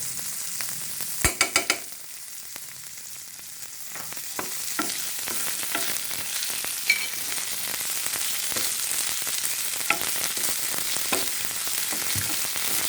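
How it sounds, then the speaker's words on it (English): Onions and chili fry in a pan for a squid stir-fry in oyster sauce, giving a steady close sizzle with a few sharp clacks of a spatula near the start and occasional stirring scrapes. "cook until the onions has become soft and translucent and the chili has become softer"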